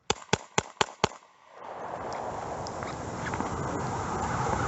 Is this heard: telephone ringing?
no